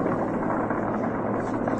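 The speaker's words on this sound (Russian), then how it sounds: "Второй приземлился, это, я так понимаю, десантский вертолет" A military landing helicopter, one of several troop-carrying craft setting down near a factory during fighting, gives off a steady broadband rotor roar that sounds fairly distant and holds unchanged for a brief moment.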